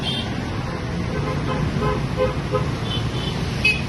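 A Bajaj Pulsar NS motorcycle engine idles steadily after starting, a continuous low rumble, close and fairly loud, with faint background street noise.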